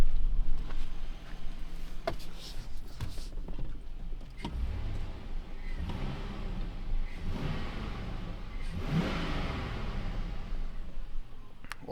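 A Chevrolet Silverado pickup engine revs up a few times while warming up, the rises and falls of the engine note fairly quiet and heard up close, with faint background noises and no speech.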